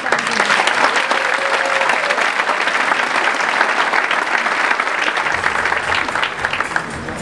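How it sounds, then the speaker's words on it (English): Sustained applause from a large audience fills an awards dinner for the Top 100 Women in the North American Auto Industry in Detroit, dense steady clapping that continues loud throughout and eases slightly near the end. "we applaud them for their accomplishments"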